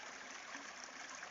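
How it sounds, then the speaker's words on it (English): River water flowing steadily through a quiet, green village setting, a soft continuous rushing wash with no voices. "The sound of water makes you feel like it brings about the feeling of lulling"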